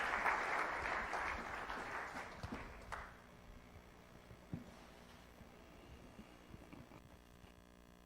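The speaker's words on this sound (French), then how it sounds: "nous allons acclamer très fort pour la gloire de notre Dieu" Church congregation clapping loudly in a dense wash of applause that lasts about three seconds, then fades to a quiet room with occasional faint knocks and shuffles.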